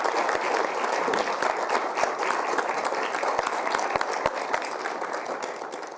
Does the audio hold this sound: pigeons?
no